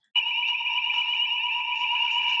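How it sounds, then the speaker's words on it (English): Fire alarm sounding after being pulled by a child, a loud steady electronic tone that starts abruptly and holds continuously without pause. "He just pulled a fire alarm."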